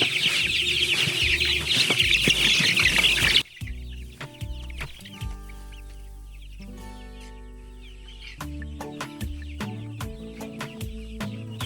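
Five-week-old chickens cluck repeatedly at close range, short choppy calls scattered throughout, with a noisier stretch at the start.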